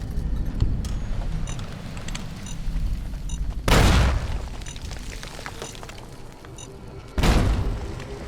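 Two loud bomb blasts go off in Fallout New Vegas, each a broad, punchy boom with a short rumbling decay, set several seconds apart over a steady low background hum.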